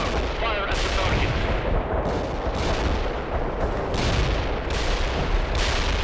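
Dense, continuous battle sounds from the real-time strategy game World in Conflict: Soviet Assault, with gunfire and artillery rumbling steadily under a busy mix of explosions and shots.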